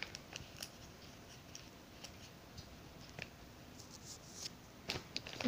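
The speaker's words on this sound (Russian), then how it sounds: "Я уже приготовила ножницы." Quiet snipping and crisp clicks of scissors cutting open a mail parcel, with scattered rustles and taps, close by and at a low level.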